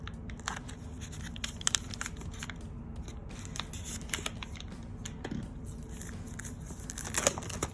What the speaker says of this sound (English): So we are now removing the plastic.